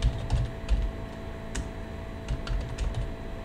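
A terminal command typed on a computer keyboard for a Linux package install, with quick irregular key clicks and taps close up, uninterrupted by any voice.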